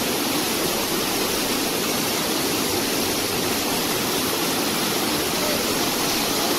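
Water pounds down a rocky waterfall into churning foam, a loud, constant full-band roar of rushing water that stays even and unbroken, with no one speaking.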